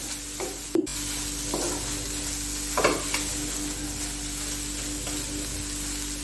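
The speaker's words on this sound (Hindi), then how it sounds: "इसी में जाएगा ये चिकन, थोड़ा सा इसको भी कुक करूंगी" Chicken cooking and being stirred in a hot pan gives a steady, close sizzle, broken by a few brief scrapes and clinks from the stirring utensil. No one talks.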